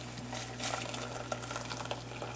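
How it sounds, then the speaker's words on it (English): Water pours into a cooking pot for nettle mead, a close, steady splashing and trickling that runs continuously over a low background hum, with a few brighter spatters along the way. "I'm going to put the water in a couple cups of water, maybe 2, 3, 4 cups."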